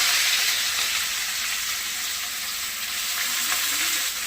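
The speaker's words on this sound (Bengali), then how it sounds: "তেল গরম হয়ে গেছে, আমি সাদা তেলেই করছি। গাজরগুলো দিয়ে দিলাম" Carrots frying in hot white vegetable oil in a wok, giving a steady, close, bright sizzle with a constant hiss and no voices.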